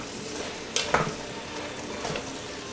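Yellow squash cooks in melted butter in a pan, giving off a steady, soft sizzle with a couple of brief stirring clatters near the start.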